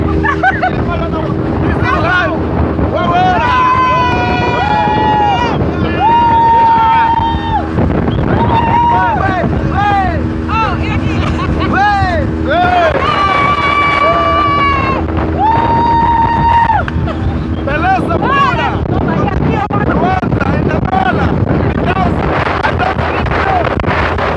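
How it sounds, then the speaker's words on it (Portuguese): Strong wind buffeting the microphone on a boat crossing open water, a steady roaring rush heard close and loud throughout, with people talking over it. "É o vento."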